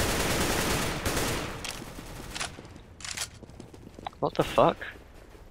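In CS:GO, a decoy grenade fakes gunfire as a run of sharp, spaced pops, after a stretch of loud noisy game action. A player briefly exclaims over it.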